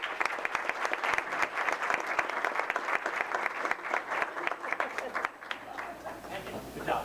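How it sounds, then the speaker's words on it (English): A round of applause at a school board of education meeting, a moderate crowd clapping steadily and fairly close for several seconds before thinning out, with faint chatter underneath. "So round of applause."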